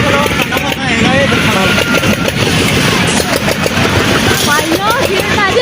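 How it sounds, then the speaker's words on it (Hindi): A fairground dragon boat ride runs at a village New Year celebration, its engine a loud, steady droning rumble under excited crowd voices and people talking nearby. "ये देखिए ये पूरी ड्रैगन बोट भाग रही है।"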